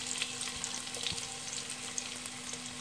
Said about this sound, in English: Heat some oil and keep the flame on medium and add the onions to it.